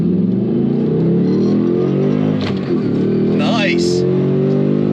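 A 2024 Mustang GT RTR Spec 2 accelerating hard in a drag test, a loud steady engine roar from inside the car with a brief shift dip, voices talking over it.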